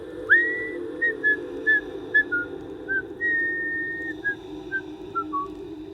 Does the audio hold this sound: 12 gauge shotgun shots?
no